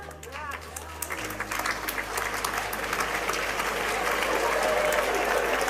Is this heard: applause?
yes